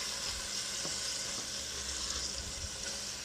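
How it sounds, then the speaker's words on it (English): Ground beef frying and browning in a pan, a steady close hiss and crackle of sizzling fat, with a few soft scraping and clattering knocks from stirring partway through. "you want to let your ground beef cook for a few minutes before you start to break it up so that it browns"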